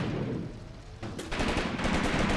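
Machine gun fire in a nighttime war video game: after a brief lull, rapid crackling bursts break out and keep rattling continuously, fairly loud and close, with no talking.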